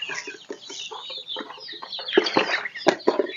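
A local free-range chicken clucks close by in a short, irregular run of calls that grow louder and busier toward the end, with no voices.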